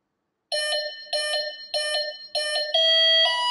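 Vector SR80 Pro brushless ESC for an RC car, beeping just after its battery is plugged in: four quick repeated bursts of close, loud electronic beeps, then a longer steady tone that shifts up in pitch, with no talk.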